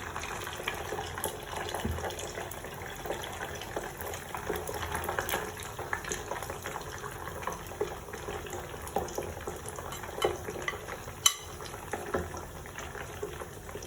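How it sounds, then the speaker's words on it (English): Pork pieces deep-frying a second time on high heat, producing a steady bubbling hiss of oil with small pops, close and continuous without talk. "So now I'll just take these and fry it for the second time"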